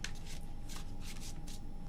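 Tarot cards shuffled close at hand in several quick riffling bursts, each a crisp papery flutter, with short pauses between them over a low steady room hum.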